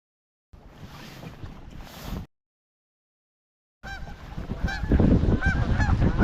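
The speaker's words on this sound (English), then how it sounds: "You stupid goose." A goose honks in two bursts at a lake during a bass fishing tournament, the first harsh and raspy, then a louder run of repeated honks after a short silence.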